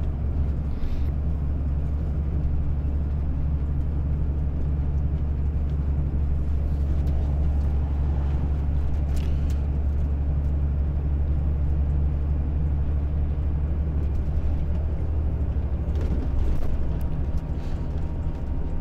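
A bus rolling through city streets in Wrocław, with a steady engine drone and road rumble holding at an even level the whole way and no talk over it.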